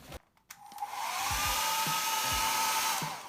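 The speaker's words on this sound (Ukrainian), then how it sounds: "Треба почекати, поки висохне або висушити феном." After a few clicks, a hair dryer switches on close by and blows with a steady, loud whooshing roar.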